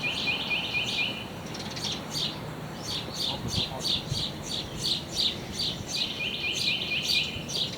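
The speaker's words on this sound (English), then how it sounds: "There's so many birds out here in the morning. Like, the noise is perfect." Birds chirping and tweeting in quick repeated bursts in the morning, fairly close, over a steady outdoor background hiss.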